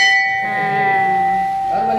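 A Hindu temple bell rings out with a sustained, humming metallic tone that slowly decays, close and clear, while a faint voice murmurs underneath.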